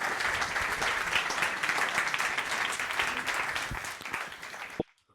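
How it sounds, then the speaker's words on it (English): Indoor audience at a business talk applauding a speaker's introduction, a dense wash of clapping that stays steady for about five seconds and then cuts off abruptly. "a big applause for Daniel Jeffries."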